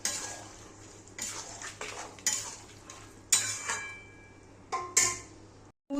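Spiced peas for Bengali-style aloo matar ghugni stirred in a pan, a spatula scraping and knocking the metal in irregular separate strokes over a faint sizzle, close with quiet gaps between strokes, no talking.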